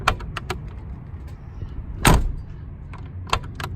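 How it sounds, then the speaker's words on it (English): Sharp clicks and clunks of a Mercedes G63 AMG's door lock and latch, with one heavier, solid thud as a door shuts, close by against a low background hum. "these lock and unlock sounds and the door opening and closing"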